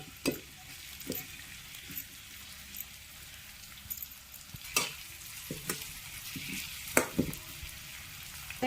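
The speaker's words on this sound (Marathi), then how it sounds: "त्याच्यात तेव्हा कांदा सोडून देऊ आता हे थोडंसं परतून घेऊ" Onion sautéing in oil for bhindi masala: a soft, continuous sizzle close by, broken by sharp, irregular clicks and scrapes as a utensil stirs the pan.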